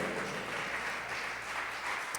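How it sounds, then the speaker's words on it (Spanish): A church congregation applauds at a Sunday service, a dense steady patter of many hands clapping throughout. "Dele un aplauso al Señor."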